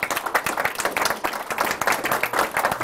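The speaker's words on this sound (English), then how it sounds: "So another round of applause for Graham." A modest audience claps after a lecture session on Augustine's City of God; a lively, uneven patter of individual hand claps, close and moderately loud, with no talking over it.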